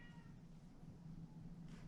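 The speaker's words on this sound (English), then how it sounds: "I do apologize for the cat." A needy house cat meows indoors, a faint drawn-out cry close by against a quiet room, with no talking.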